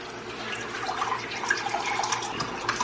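Bottled water is poured into a measuring cup in a kitchen, giving a steady, close splashing trickle that runs unbroken for a few seconds with no voices.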